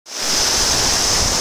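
Palappattu waterfall in Kallakurichi roars steadily after a brief start, a loud, dense, unbroken wash of falling water close by with no voices.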